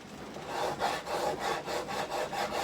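A metal file worked by hand across a metal piece in a shop, giving steady rhythmic rasping strokes, about five back-and-forth passes at an even pace, close and moderately loud with no voices.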